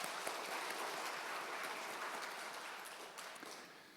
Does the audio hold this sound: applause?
yes